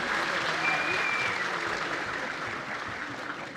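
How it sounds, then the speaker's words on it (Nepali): A stage audience breaks into sustained, dense applause, many hands clapping together at steady strength and fading slightly toward the end. "म एकचोटि उहाँको लागि चाहिँ जोरदार ताली बजाइदिनुहोस् भन्न चाहन्छु।"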